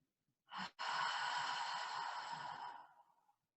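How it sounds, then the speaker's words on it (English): Deep yoga breath during a relaxing session: a short inhale, then a long, steady, airy exhale that fades out, close and soft with no talking. "We start to just breathe, inhaling and exhaling."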